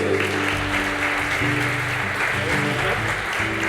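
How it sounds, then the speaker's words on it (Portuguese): A church congregation at a Sunday service applauds in sustained, dense clapping, with a low musical hum underneath, close and continuous. "Pode aplaudir o Senhor por isso?"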